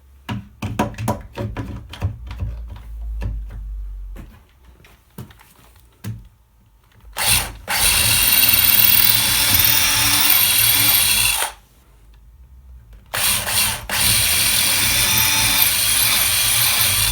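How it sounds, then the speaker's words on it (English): A power drill bores handle holes through a wooden drawer backed by a clamped scrap block, with scattered clicks and handling first, then two long loud whining runs of the drill separated by a brief pause. "while I drill the last of the holes"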